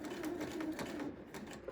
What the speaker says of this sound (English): And I'm just going to start sewing.